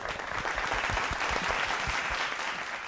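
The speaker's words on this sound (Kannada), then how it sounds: "ಇವತ್ತು ಕಾವ್ಯಾಗ ನಾನು ಚಪ್ಪಾಳೆ ಹೊಡಿಲೇಬೇಕು." Steady applause from a studio audience on a televised singing reality show, dense continuous clapping filling the whole moment with no talk over it.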